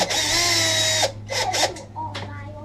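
A power drill tightens screws on a Whirlpool appliance during an infinite switch replacement: one long steady whirring run, then several shorter stop-start bursts, close and clear.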